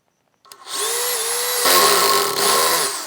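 A Dewalt DCD805N 20V cordless brushless hammer drill spins up sharply and drills for a few seconds with a loud, steady high whine that dips briefly under load, recorded close and alone.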